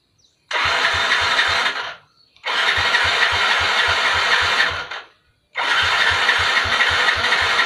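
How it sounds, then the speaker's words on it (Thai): A Yamaha Fino scooter engine fresh from repair cranks in three loud, close bursts of rapid mechanical chugging, each lasting one to two seconds with short silent gaps between, without settling into a steady idle. "อ่ะเสร็จแล้วมาลองสตาร์ทดูนะ"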